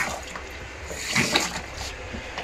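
Water runs briefly from a tap fed by a galley foot pump in a small kitchen, a faint splashing trickle in short pulses over quiet background.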